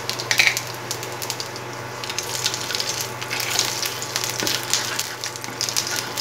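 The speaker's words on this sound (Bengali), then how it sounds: "সাদা জিরেটা ফ্রাই হয়ে সুগন্ধ বেরাবে" White cumin seeds fry in hot oil left in a pan after frying fish, making a fine, busy crackle and sizzle with scattered sharp pops. It runs steadily at moderate loudness.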